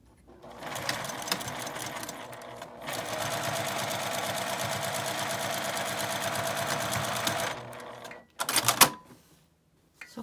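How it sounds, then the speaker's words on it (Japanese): A sewing machine stitches a lined fabric zipper pouch in rapid mechanical bursts: one short run, then a longer steady stretch, ending with a few clattering stops and handling noises nearby. "またこの7センチを開けて、ここから1センチの縫い代で縫います。"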